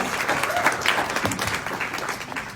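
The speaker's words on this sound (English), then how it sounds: "So, applause." Audience applause at a panel discussion on diversity and inclusion in storytelling, a steady dense wash of many hands clapping that holds at an even level throughout.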